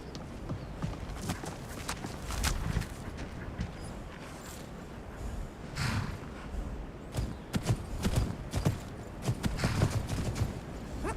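Hooves clop at a slow walking pace in Skyrim over a soft ambient background, the steps fairly close and moderately loud.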